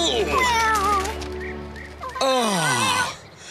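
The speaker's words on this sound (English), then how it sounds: "Meow." A cartoon cat meows several times, drawn-out and close, with rising and falling pitch and a brief pause between calls.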